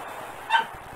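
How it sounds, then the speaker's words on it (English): A pet dog gives a single short, faint bark in the background of a room, brief and somewhat distant against a quiet backdrop. "If you hear some barking in the background"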